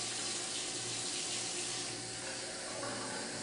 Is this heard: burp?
no